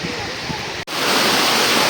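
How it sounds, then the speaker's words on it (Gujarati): Water rushing over Shetrunji dam near Palitana, a loud continuous roar like a waterfall that grows stronger after a brief dropout, heard up close without talk. "આમાં તમને પાણીનો અવાજ બહુ આવતો છે મારો અવાજ ઓછો આવતો છે"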